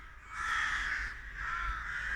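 Two harsh crow caws ring out in quick succession, moderately close and rasping, with quiet outdoor air between them.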